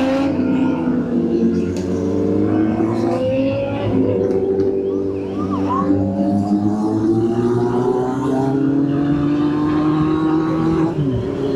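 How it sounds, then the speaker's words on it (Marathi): A roughly 665 cc Benelli superbike's engine and exhaust drone loudly and close, pitch climbing and falling as it revs through the gears on a group ride. "बाय सेक्सी बेनेलीचा आवाज तरी एक नंबर."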